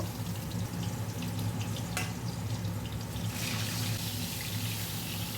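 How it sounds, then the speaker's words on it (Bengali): Boal fish sizzling steadily as it fries in a covered pan, a continuous close crackle and hiss with no talk. "আর বাকি মাছগুলোকেও আবারও ভেজে নিচ্ছি"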